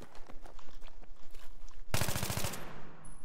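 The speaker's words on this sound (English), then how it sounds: "as I shoot this back wall, that spread's pretty bad" Rapid burst of AEK assault rifle fire in Battlefield 3 shooting at a back wall, a loud sustained volley of about half a second amid quieter game ambience and footsteps.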